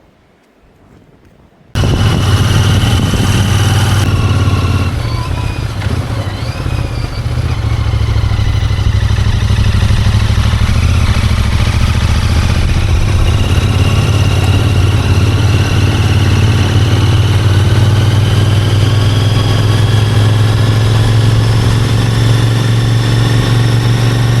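A motorcycle engine starts and then idles steadily and loudly at close range with a constant low rumble and some mechanical clatter, running alone for over twenty seconds.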